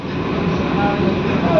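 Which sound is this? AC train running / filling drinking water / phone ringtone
AC train running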